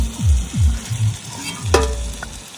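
Large freshwater prawns fried in hot oil for a Bengali malai curry, stirred with a few scraping strokes over a steady sizzle, close and moderately loud with a sharp clink near the end.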